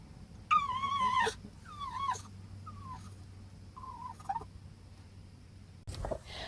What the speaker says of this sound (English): they fluff up all of their feathers and make a noise that we call the eagle chicken